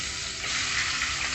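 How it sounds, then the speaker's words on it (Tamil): Chicken pieces hitting hot peanut oil for a chicken biryani, giving a steady, loud frying sizzle that hisses evenly throughout with no talk. "எண்ணெய்லாம் காஞ்சதும் நம்ம கலந்து வச்சுருக்க சிக்கனை சேர்த்துடலாம்"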